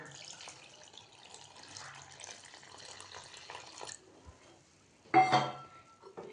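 Water is poured from a tap into a bowl of yogurt for a South Indian dahi kadhi, a short close gush near the end after quieter background sounds.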